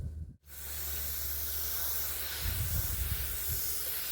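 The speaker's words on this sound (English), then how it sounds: "we're going to take and use the misting spray for that" A misting spray bottle wetting the soil over freshly sown carrot seeds, giving a close, steady hiss that starts after a brief pause and holds almost unbroken to the end, with faint low rumbling underneath and no talking.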